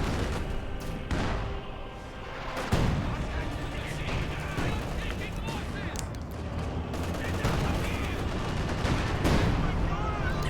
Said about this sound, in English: Zis Barrage rolls a miss right there.